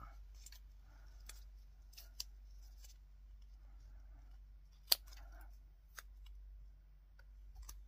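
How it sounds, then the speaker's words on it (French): Scissors cut through foam in a quiet room, making a few soft, scattered snips and clicks, one of them sharper than the rest. "Alors, le ciseau pour la mousse, il est là."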